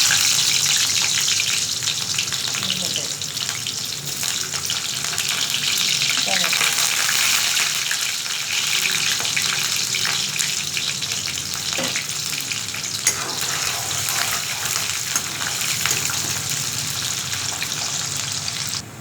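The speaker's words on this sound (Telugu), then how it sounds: "ఉల్లిగడ్డ వేసుకోవాలి." Onions fry in hot oil for chowlakaya roti pachadi, a loud, steady sizzle running unbroken for the whole stretch, with occasional stirring scrapes and no speech.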